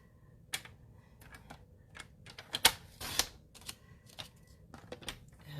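Cardstock paper being trimmed to size on a paper cutter for a handmade pleated fold card, giving a few quiet scattered clicks and taps followed by two sharp slicing cuts close by, with no talking.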